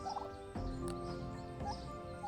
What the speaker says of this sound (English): This is our male meat turkey